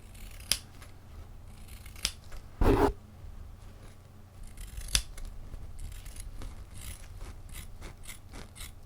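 Scissors snip a few times, short sharp cuts separated by pauses in a quiet room, one louder crunchy cut among them.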